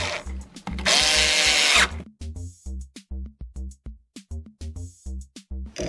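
Screws driven by a power drill into an old square timber to mount a load cell: a loud sustained whir of the driver, then a series of short rhythmic ratcheting bursts, close and clear with no talk.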